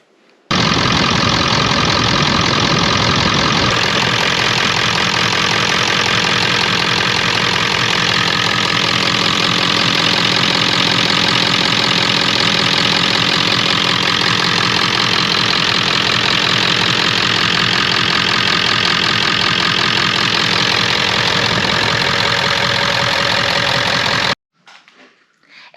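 Ford 7.3 Powerstroke diesel engine idling after a fuel lift pump replacement, a loud, steady, close clatter and drone that holds for about twenty-four seconds before stopping.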